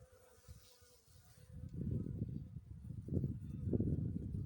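Low, steady insect buzzing from many honey bees inside a hive, swelling louder in the second half, dense and close with no voices.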